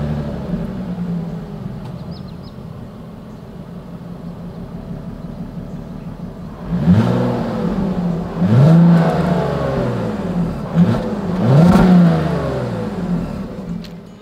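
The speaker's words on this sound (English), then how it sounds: "As always, here is that exhaust clip." A 2023 Volkswagen Atlas Cross Sport's dual exhaust idles steadily, then is revved three times, each rev rising and falling in pitch, heard up close with no talking.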